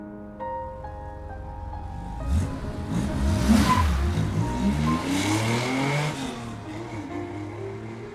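Car pulling away and accelerating in the game Love and Deepspace, engine revving up loudly and holding a steady roar over soft background music.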